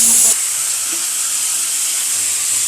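Chopped bottle gourd goes into hot oil in a wok where fish head was frying, giving a sharp burst and then a steady, close sizzle with no talking.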